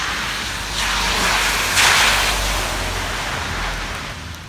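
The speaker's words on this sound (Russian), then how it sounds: "Идет дождик." Steady hiss of rain falling outdoors, swelling louder in the middle then easing off, with no voices.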